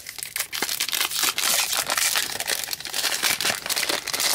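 Plastic foil wrapper of a Disney Lorcana booster pack crinkles and tears open, a dense run of loud crackling and crumpling close to the microphone with no talk.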